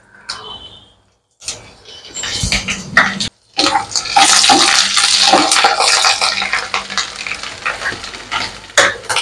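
Curry leaves and cumin seeds crackle and sizzle in hot oil for a crab curry, with stirring scrapes over a steady loud fry after a brief quiet start; no talking.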